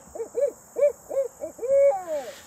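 A person imitates a barred owl's 'who cooks for you' call, a series of rhythmic hooting phrases ending in a drawn-out descending hoo, close and clear over a faint steady hiss.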